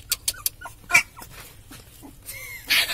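A tiny puppy gives short, high whimpers and squeaks in a quick irregular series, close by, with a louder burst of squeals near the end and no talk.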